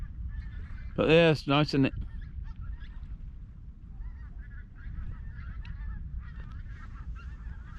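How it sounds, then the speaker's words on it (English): Geese flying over a dock in Hull give a loud burst of several close honks, then fainter honking continues in the distance; someone talks briefly in between. "Plenty of dicky birds flying over."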